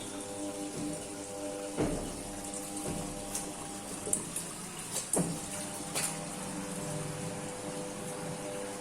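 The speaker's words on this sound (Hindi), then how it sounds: "रिंस पानी को निकाल रही है और जितना भी साबुन का पानी है उसको जो है ये बाहर कर रही है" An automatic washing machine draining soapy rinse water gives a steady pump hum and running-water flow, broken by a few sharp knocks and clicks.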